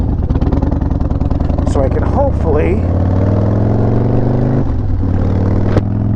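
A motorcycle engine idles while warming up before an oil and primary change, a steady loud rumble that carries all the way through, with someone talking over it.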